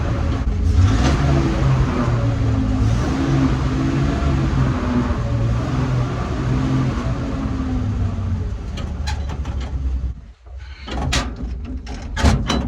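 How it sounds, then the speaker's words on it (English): A 1948 Dodge Power Wagon pickup engine drones loudly as it runs, then briefly drops off and revs back up as it downshifts while driving. "I'm going to downshift."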